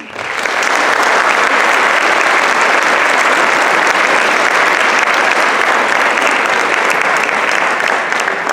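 Loud, continuous applause from a large audience welcoming a guest speaker at a legal workshop, rising quickly and holding steady and dense for several seconds.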